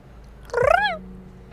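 A video-game creature gives a single weird, chirpy purr, a short rising-and-falling trill with a slight buzz, clear and close against a quiet background.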